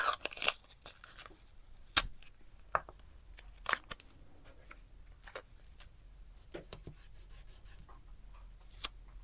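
Washi tape being torn and handled for junk journal clusters makes quiet rubbing, ripping and crinkling sounds, with a few sharper rips scattered through the near-silent stretch.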